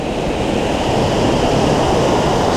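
Loud, constant roar of rushing mountain water close by, a broad unbroken wash of noise with no pauses, along a mountain bike climb to a pass near Cortina d'Ampezzo; no voices are heard.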